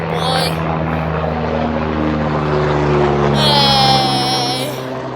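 An air ambulance helicopter passes overhead, its rotor thump and engine whine holding steady and fairly loud throughout, with no talk.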